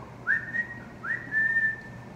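Two clear whistled notes from a person, the first short and the second longer and held, each rising briefly before leveling off.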